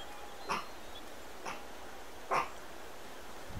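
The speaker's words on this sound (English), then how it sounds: "it's my dog barking" A dog barks three times in short, sharp bursts spaced about a second apart, moderately loud over a low background hum.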